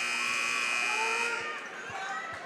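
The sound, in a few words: basketball game clock buzzer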